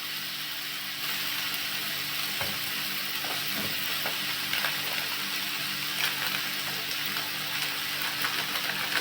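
Onions and tomatoes frying in a pan, a steady loud sizzle that holds evenly throughout with faint stirring clinks and no talk.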